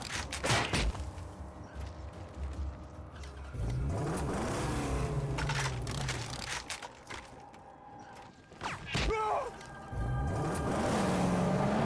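Vehicles in a Mad Max convoy roar past in the game's wasteland, with engines revving and surging through a continuous loud drone, with sharp bursts and creaks breaking in around the middle.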